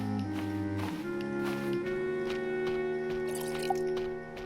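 Water filling a container in the Stranded Deep survival game plays as steady drips and liquid trickling, layered over sustained humming game music.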